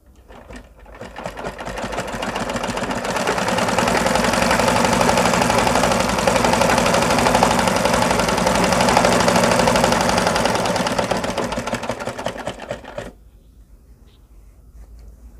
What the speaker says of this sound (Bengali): আমি যদি সেলাইটা দিয়ে দেখি